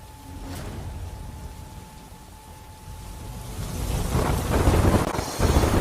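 Rain falling over villages near Kamrej in Gujarat, a steady wash of rainfall with a faint low rumble, growing louder and heavier toward the end, with no voices.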